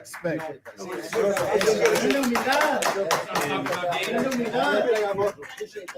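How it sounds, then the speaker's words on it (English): Crowd applause after a professional boxing match, steady rapid clapping that runs under someone speaking loudly over it. "We want to give a round of applause to the winner, David Benavidez"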